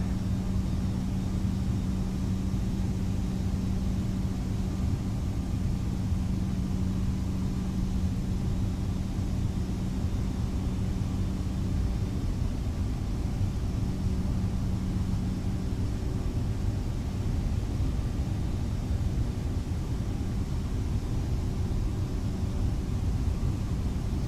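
Airbus A319 taxiing in Microsoft Flight Simulator on Xbox Series S, a steady low engine drone and airy hiss holding evenly throughout at moderate level, with no talk.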